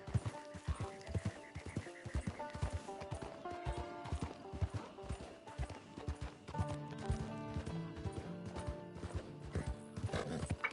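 Horse hooves clip-clop at a walking pace in Red Dead Redemption II, a steady rhythm of close, distinct steps over game music, with an occasional whinny.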